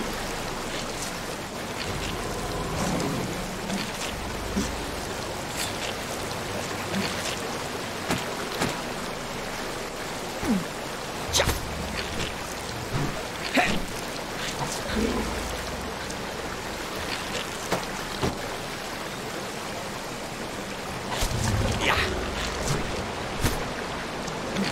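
A rushing waterfall in the video game Risen, a steady broadband wash of falling water with scattered splashes and clicks, continuous throughout with a slight swell near the end.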